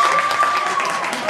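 A school drama audience bursts into applause during a vote on a character's fate, a dense, steady wash of clapping from a crowd, fairly loud and continuous throughout.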